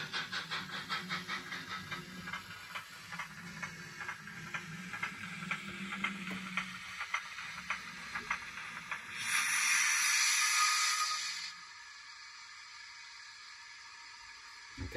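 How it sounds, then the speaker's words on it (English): A rapid rhythmic clanking and chuffing from a small machine, steady and close, followed by a loud burst of hissing steam that then cuts off. "You hear the rods clanking."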